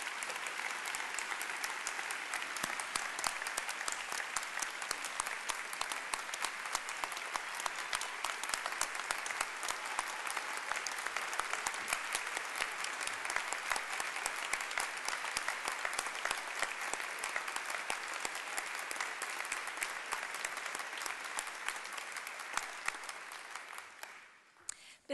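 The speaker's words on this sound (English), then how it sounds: "Let's give all of our students a round of applause for their accomplishments." Sustained audience applause fills the room at a 2010 university honors convocation ceremony for graduating students, a dense, steady clapping from a large crowd that continues for about twenty-five seconds before fading out at the end.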